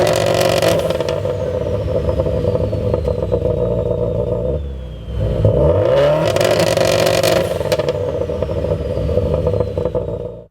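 A Subaru Impreza V11 WRX/STI engine held on launch control sits at a loud, steady, buzzing high rev with popping crackle, dips briefly near the middle, then climbs straight back to the limiter.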